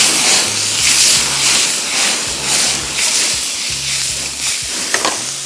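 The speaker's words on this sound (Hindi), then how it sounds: "और अब इसको हम थोड़ा सा करेंगे फ्राई।" Bologna slices frying in a pan, a loud continuous sizzle and hiss with faint stirring clatter and a low intermittent hum beneath.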